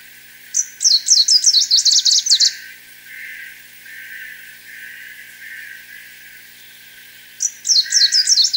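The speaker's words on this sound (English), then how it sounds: "Here's the song of greenish." A greenish warbler sings a fast, high, complex phrase of rapid notes lasting about two seconds, then repeats it after a gap, while fainter bird calls carry on in the background.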